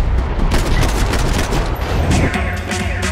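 Dense, continuous Uzi submachine gun fire in Max Payne 3, rapid overlapping bursts crackling loudly throughout with no pauses, thick and close.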